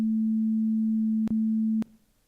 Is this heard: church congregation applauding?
no